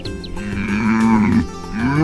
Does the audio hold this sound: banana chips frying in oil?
no